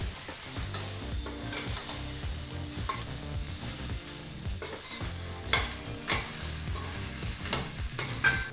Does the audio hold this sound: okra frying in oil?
yes